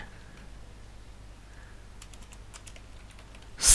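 Fingers tap a computer keyboard while entering R plotting code, a soft run of light key clicks near the end after a quiet stretch, followed by a louder bump.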